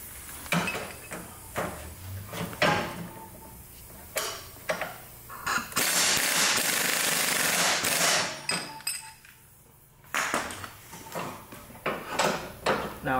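A wrench tightens the nut on a suspension bushing: a run of metallic clicks and knocks in uneven bursts, with a louder stretch of grinding in the middle, close and fairly loud, without talk.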